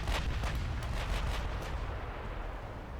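Naval guns firing in a World War II naval strategy game on a US campaign, a run of heavy booming shots with rumbling low-end blasts repeating quickly in the first seconds, then a continuous roar of battle noise lingering underneath.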